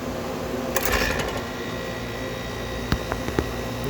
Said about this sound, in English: I just want to plug the compressor in. Well, at least you can hear it come on now.